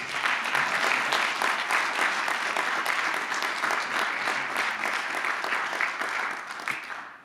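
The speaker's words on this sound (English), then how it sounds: "If we could give everybody a big round of applause." An audience at a film festival awards ceremony claps in steady, sustained applause for several seconds, dense and fairly close, fading slightly at the end.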